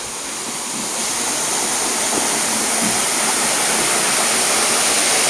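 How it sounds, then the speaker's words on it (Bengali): Sita Kund waterfall flows among big boulders during the dry season, with reduced water. It makes a dense, steady, loud rushing roar that stays constant throughout, with no voices. "তার মাঝখান দিয়ে এই হচ্ছে সীতাকুণ্ড ওয়াটারফল"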